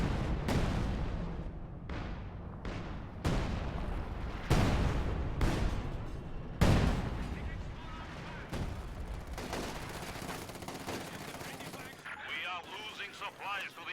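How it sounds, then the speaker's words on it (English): Dual artillery barrages in the Company of Heroes 2 video game land as a run of loud broadband blasts and gunfire bursts, roughly every one to two seconds, fading into rumbling debris and scattered shots near the end. "Yes, we do see dual barrages."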